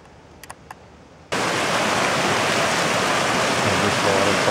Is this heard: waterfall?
yes